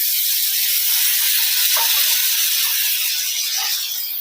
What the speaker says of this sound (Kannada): ಚೆನ್ನಾಗಿ ಆಯಿಲಲ್ಲಿ ಫ್ರೈ ಆಗಬೇಕು